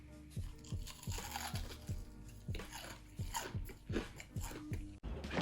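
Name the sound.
biting into crunchy double-fried chicken tenders with barbecue sauce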